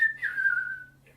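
A person imitates a bird call by mouth-whistling: one sustained, slightly wavering whistled note that swells and then slides gently downward, followed by a faint brief chirp, alone against a quiet low hum.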